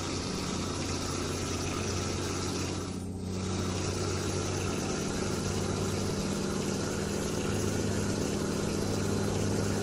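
Mercedes Atego 2426 truck idling in a driving simulator game, a steady, constant engine drone with a brief dip in tone partway through, no talking.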